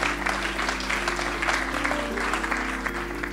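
An audience applauds steadily in a hall for provincial deputy Annemarie Spierings at a Jaar van de Ruimte On Tour event in Helmond. The dense clapping holds at an even level for the whole stretch over a low electrical hum.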